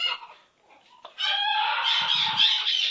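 Merlin, a pet bird with itchy feathers, lets out a squawk, then a long, loud, harsh screeching call close by, with a soft low rustle partway through.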